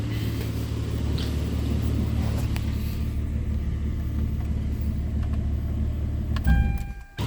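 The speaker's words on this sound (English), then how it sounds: "now I could turn off this engine before it actually starts to overheat." Mitsubishi Eclipse engine in need of repairs, with sensor faults and close to overheating: a steady low idle rumble runs throughout, then brief clicks and a short whine as the engine is switched off near the end.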